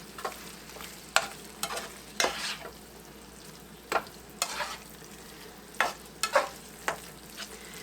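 A spoon stirs a creamed spinach casserole mixture in a pan, giving intermittent scraping clinks over a soft steady sizzle, close and without talk.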